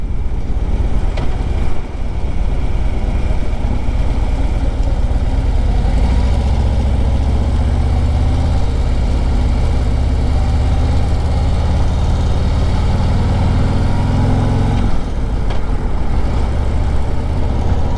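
A 2025 Harley-Davidson Street Glide idles with a steady, loud low rumble, wind buffeting the microphone throughout and a brief shift in the engine note near the end.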